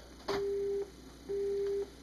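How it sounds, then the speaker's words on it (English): Busy tone after a telephone hang-up in the video game Resident Evil Survivor: two steady low electronic beeps, each about half a second long and separated by a pause, sounding clearly over a quiet background hum. "The phone hang up."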